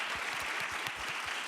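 A brief burst of audience applause at a community summit program: a faint, steady patter of many hands clapping at a distance.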